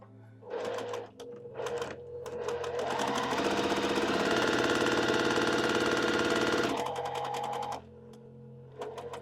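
A sewing machine stitches quilt pieces, its motor running in short bursts at first, then in one long steady run for several seconds before slowing and stopping, with a low hum between runs.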